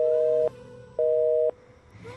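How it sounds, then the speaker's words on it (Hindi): Telephone busy tone after a call is disconnected: two long steady beeps separated by a short gap, clear and alone on a quiet line. "रश्मि कुछ नहीं बोलती है और फ़ोन डिस्कनेक्ट कर देती है।"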